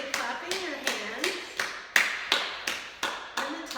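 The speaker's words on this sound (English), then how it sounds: "Eventually clapping your hands." Slow, rhythmic hand claps during a gentle healing yoga exercise, about ten distinct claps at an even pace, with a soft voice speaking between them.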